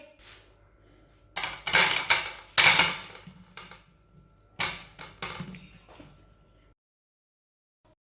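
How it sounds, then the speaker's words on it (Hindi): Fried besan (gram flour) snacks clatter onto a plate in a home kitchen, several bursts of clinking and tapping close by, with quiet gaps between them and no talking. "अब इसे प्लेट में डाल लेंगे।"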